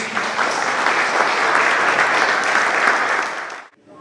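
A church congregation claps in sustained, loud applause that fills the sanctuary, then cuts off abruptly near the end.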